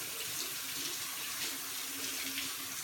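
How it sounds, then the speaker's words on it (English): Tap water runs steadily over a blender filter at a kitchen sink, giving a continuous hissing splash that lasts throughout. "Rinse off the filter."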